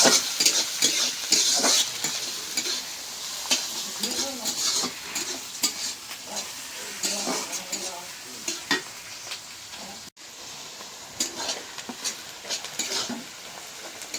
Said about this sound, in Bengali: রসুন, পেঁয়াজ, কাঁচামরিচ সব ভাজা হয়ে গেল